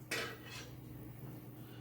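Hot glass canning jars lifted out of a boiling-water canner, where they were sterilized for ghost pepper sauce, give a sharp close glassy clink followed by a softer second knock, then a quiet kitchen hum.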